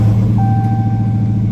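A 2018 Dodge Challenger SRT Demon engine gives a loud, deep, steady rumble close by, with a thin electronic tone sounding over it throughout.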